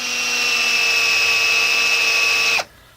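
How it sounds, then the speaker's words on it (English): Power drill boring a hole into a wooden post while building the base and hip boards of a high tunnel, a steady loud whine held for over two seconds before stopping abruptly. "it's easier to go ahead and drill it than once your board's out of the way"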